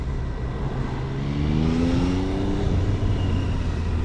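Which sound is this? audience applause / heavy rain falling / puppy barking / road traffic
road traffic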